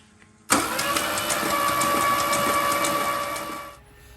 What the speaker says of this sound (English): I am curious to see if the starter will crank the motor